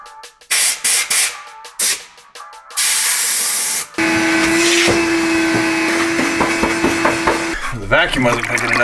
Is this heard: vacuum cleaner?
yes